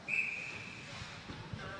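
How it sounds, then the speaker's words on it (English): Referee's whistle at an ACHA college ice hockey game between Mercyhurst and Rochester, one short faint shrill blast early on over low arena crowd murmur. "There'll be a whistle."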